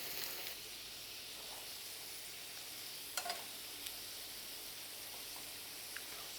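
Raw potatoes sautéing in a pan give a steady, soft sizzle throughout, with a couple of brief clinks and scrapes of the pan or utensil partway through and near the end.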